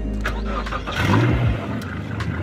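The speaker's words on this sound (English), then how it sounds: "Even though the engine is not fully trimmed down, it's now safe to start." A boat engine cranks and catches with its water intake submerged, a short starter whirr rising into a low running rumble, close and fairly loud.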